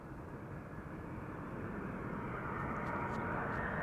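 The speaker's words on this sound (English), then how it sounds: "a Royal Jordanian special livery, Alia retro livery, an A321" Royal Jordanian Airbus A321 in Alia retro livery arriving at Amsterdam Schiphol, its engines a broad, steady roar that swells gradually as it nears, heard from a moderate distance.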